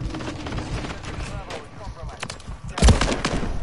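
Gunfire in a shooter video game comes as scattered bursts of shots and a sharp loud blast near the end, heard under excited gamer talk.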